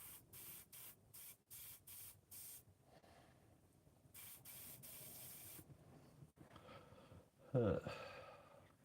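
An airbrush sprays paint in short repeated bursts, then in longer sustained hisses, close and fairly quiet, with a brief breath or sigh near the end.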